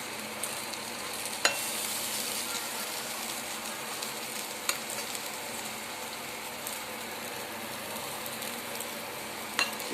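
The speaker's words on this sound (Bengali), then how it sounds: "এই বেগুন ভাজা" Eggplant slices frying in a pan give a continuous, fairly quiet sizzle with a few sharp pops and crackles, heard close by with no voices.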